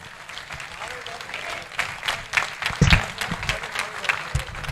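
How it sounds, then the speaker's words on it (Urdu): Audience applause welcoming a poet on stage at a mushaira in Sargodha, sustained clapping from a crowd that swells midway, with an announcer's voice calling out over it. "پوری محبت سے تالیوں کی گونج میں ان کا استقبال کیجئے"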